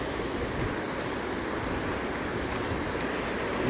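A swollen Mal hill river in the Dooars rushes after heavy monsoon rain, giving a dense, continuous roaring wash of water, steady and broad with no pauses or voices.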